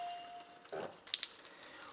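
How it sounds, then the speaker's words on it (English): Water ionizer, Jupiter Orion JP109, running purified water from its alkaline spout into a sink, a faint steady splash with brief spattery bursts near the end. "you'll notice that nothing comes out the acidic tube into the sink, only water out of the alkaline water spout"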